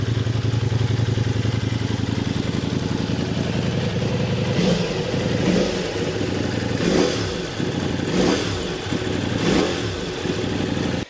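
A completely stock motorcycle with a stock exhaust, owned for about three years, idles with a steady low engine rumble, then revs up in several regular blips, loud and close with no talking.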